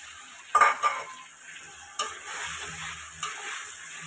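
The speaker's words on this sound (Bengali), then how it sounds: "মশলাটা ভালো করে কষিয়ে নেব" Onion with ginger, garlic, cumin, green chilli and tomato stir-fried in a pan, heard as a quiet bed of sizzle broken by a few sharp scrapes and clinks of a spoon against the pan, with no voices.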